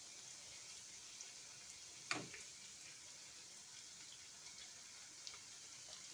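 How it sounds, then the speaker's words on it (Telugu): Bread pieces frying in a pan for bread halwa give off a faint, steady sizzle, with one brief louder knock partway through. "ఇవి మనకి గోల్డ్ కలర్ వచ్చేటంత వరకు ఇవి వేపుకోవాలి"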